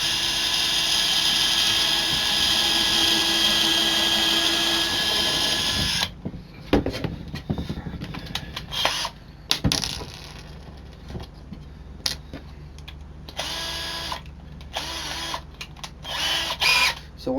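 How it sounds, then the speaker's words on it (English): A power drill bores holes in wood while building a wine and glasses shelf rack, starting with a steady loud whine for about six seconds, then a run of shorter, choppy drilling bursts with brief pauses between them. "I could actually drill 2 holes on this side, drill it together, or drill all of them."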